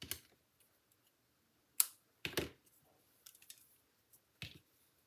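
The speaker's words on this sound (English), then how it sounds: "But I'm going to cut off that stem." Scissors snipping through a flower stem on a paper card, a few sharp, brief clicks and cuts spaced apart, close and fairly quiet.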